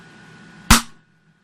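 Single sharp crack of a Bird of Prey Type AR 4-joule Nerf sniper blaster firing a dart, close and loud with a short decaying tail, over a faint steady hum.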